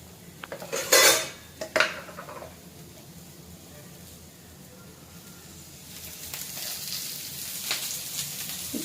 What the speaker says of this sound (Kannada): ಈರುಳ್ಳಿ ಕಟ್ ಮಾಡಿದ್ದೀನಿ, ಈರುಳ್ಳಿ ಫ್ರೈ ಮಾಡ್ಕೊತೀನಿ